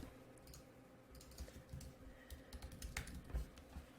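Soft, uneven keystrokes tap on a computer keyboard, faint and close, with a few slightly sharper clicks among them and no voices.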